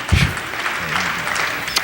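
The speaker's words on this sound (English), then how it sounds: "Any Ron George people here, please applaud." Brief round of audience applause at a Johns Hopkins University gubernatorial debate, a short burst of clapping from a modest crowd with a faint voice near the start.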